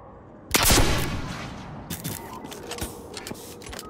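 Rapid automatic gunfire rattles in the Destiny 2 video game: a loud, dense burst followed by lighter intermittent shots and clicks, with no voices over it.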